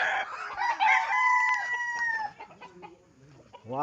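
A rooster crows loudly up close, a long drawn-out call, followed by quieter clucking and scattered calls from other roosters before another call begins.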